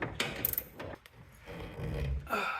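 A 3/8 ratchet with a long socket tightening a nut on a rear bumper bolt of a 1994 Chevy K1500 pickup, giving short bursts of clicking and mechanical rattle close by, with no talking.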